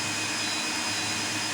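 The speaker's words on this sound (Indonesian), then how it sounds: "Kemudian kita tambah beban blower." Blower fan running as a load on a 2 kW low-frequency off-grid inverter with MPPT, giving a steady, loud broadband whoosh with a faint mains hum, continuous and unchanging throughout.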